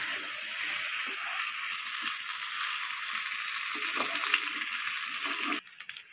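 Chicken pieces being stirred in a masala in a pan give a steady close sizzle with faint scraping, cutting off near the end.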